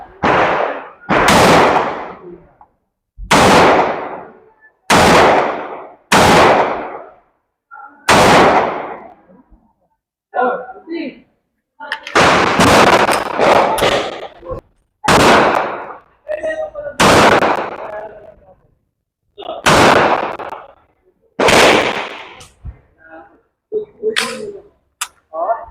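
Smith & Wesson M&P9 Shield Plus pistol fired at a shooting range: a dozen or so loud, sharp gunshots come in irregular bursts of two and three, each cracking then ringing out, with short gaps and faint sounds between volleys.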